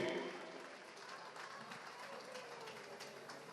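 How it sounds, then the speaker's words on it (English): Applause from a crowd at a formal chartered ball, a dense steady patter of clapping that starts loudest and eases slightly, with some voices mixed in. "A big round of applause to RJ and Ali and to all of you."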